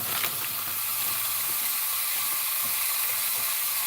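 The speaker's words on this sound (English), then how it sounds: "Yeah, you hear that sizzle?" Burgers sizzle in a hot pan with a steady, close hiss and faint crackling and no talking.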